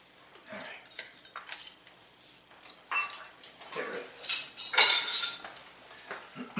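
Scraping and clinking of a spoon stirring brownie cake mixture in a pot over heat, irregular metallic taps and swirls, fairly quiet and close, with some faint background noise.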